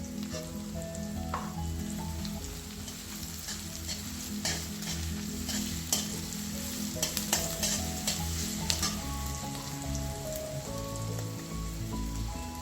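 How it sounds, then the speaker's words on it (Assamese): Onions and garlic paste fry in a pan for an Assamese dhekia fern-greens dish, with a steady close sizzle and occasional stirring scrapes running throughout, no talking. "পিঁয়াজখিনি আধা ভাজা হোৱাৰ পিছত মই আধা চামুচতকৈ কম নহৰু পেষ্ট দি দিছোঁ"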